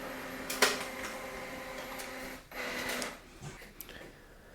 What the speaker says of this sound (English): The printer will take automatically the page and it will come out over here